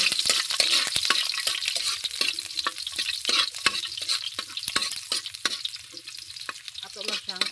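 Onion frying in hot oil in a pan, a loud, steady hiss and crackle broken by repeated scraping clinks of a utensil stirring through the pan.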